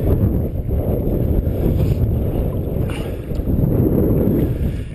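A Sea Eagle FastTrack 385 inflatable kayak is paddled, with continuous water rush and wind buffeting close to the microphone and no talking.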